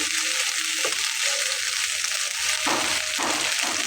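Okra with ground poppy seeds hisses in a pan in a Bengali home kitchen, a steady close sizzle with a few scraping stirs of a spatula, no voices.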